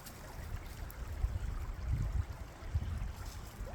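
Creek water flows steadily in Middle Tennessee, a soft continuous rushing and trickling wash heard alone outdoors at low volume.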